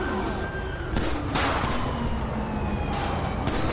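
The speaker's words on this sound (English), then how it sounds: "Oh, shots fired." Shootout gunfire in the GTA V LSPDFR police mod, with several sharp shots cracking over a steady backdrop of police sirens and ambient noise.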